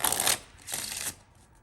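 Two quick bursts of playing cards being shuffled, each a crisp ruffling flutter lasting under half a second, close and clear with no voices.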